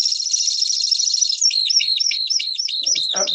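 A bird's rapid, high trilling call given in display flight in Finland or Norway, loud and close, a continuous buzzy trill that breaks into quick repeated chirping notes before a lower sound at the end.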